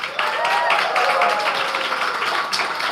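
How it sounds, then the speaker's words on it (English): Audience applause for a speaker at a Women and Climate celebration during NYC Climate Week, a loud, full burst of many hands clapping that holds steady for a few seconds. "why don't we give her a huge round of applause?"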